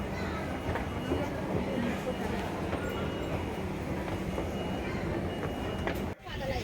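A passenger train pulls into a station platform during a trip to a temple, its steady rumble and rail noise filling the scene with crowd babble underneath, then a brief drop near the end.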